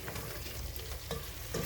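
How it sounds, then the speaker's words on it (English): Meat frying in a pan while being stirred for a spinach-and-meat dish: a close, continuous sizzle broken by a few soft scraping stirs, with no talking. "Let me stir."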